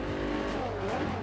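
A Nissan GT-R race car braking hard in the racing video game Forza Horizon 2: a loud, steady engine roar blended with tire noise and skidding, with no gaps.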